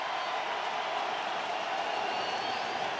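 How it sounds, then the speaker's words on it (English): A home crowd at Dodger Stadium during NLDS Game 5 against the Padres gives a loud, steady, unbroken roar that fills the whole stretch without any clear speech. "Yamamoto's home crowd making it hard to hear the pitch count right there"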